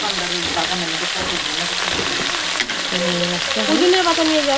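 Vegetables sizzle and fry in a pan over a gas flame, a steady crackling hiss close by with brief stirring clatter, while someone talks over it.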